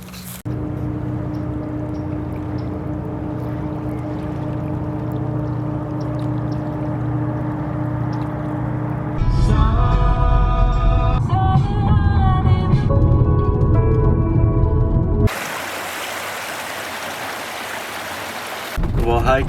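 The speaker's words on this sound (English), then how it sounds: "Just watched a barge pass. And sounds like there's another one coming." A barge passing on the Mississippi River near the Kaskaskia confluence, a steady low engine drone and churning water that swells louder midway, then gives way to broadband rushing noise.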